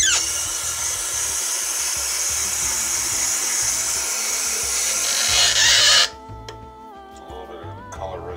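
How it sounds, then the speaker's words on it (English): Water runs into and rinses out an empty Great Value grape energy drink bottle, a steady close hiss for about six seconds that cuts off, leaving faint clinks and handling sounds. "So let's rinse out the bottle."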